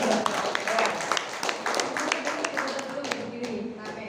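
A small group gives a round of hand clapping indoors at a training session, moderately loud, dense patter of claps lasting several seconds with voices mixed in.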